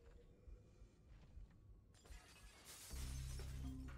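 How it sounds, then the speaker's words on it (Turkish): Glass shatters in the video game Halo: Combat Evolved, a loud bright crash breaking in over quieter game sounds and followed by sustained noisy debris and a low rumble. "Cam kırıldı, sen mi kırdın?"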